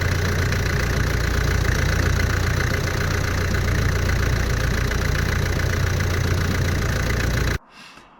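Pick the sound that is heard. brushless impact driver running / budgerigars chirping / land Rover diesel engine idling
land Rover diesel engine idling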